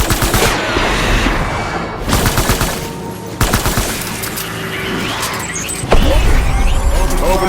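Close, loud bursts of machine-gun fire in repeated rapid volleys, with mechanical whirring and vehicle noise between them.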